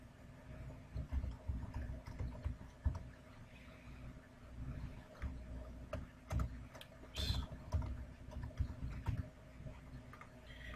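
Someone types a message subject on a computer keyboard: quiet, irregular keystroke clicks in short bursts over a steady low background hum, with no one talking.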